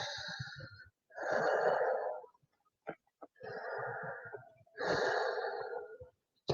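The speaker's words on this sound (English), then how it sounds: "Take a few more deep breaths." Slow, deep breaths during a restorative yoga child's pose, with three long, audible, rasping breath cycles and short pauses between them, close and fairly loud.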